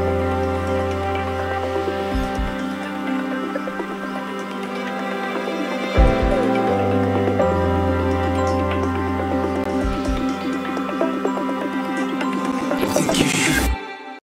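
UK garage drum break from an FL Studio project, playing as a busy, loud full mix with steady beat and bass throughout, ending in a bright burst.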